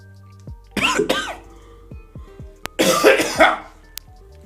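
Two separate bursts of coughing, each a couple of harsh, throaty coughs, close to the microphone, with quiet pauses and faint clicks between.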